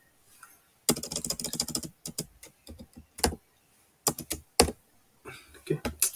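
Fingers typing on a computer keyboard in quick bursts of clicks separated by short pauses, close and clear, while a poster is designed on screen.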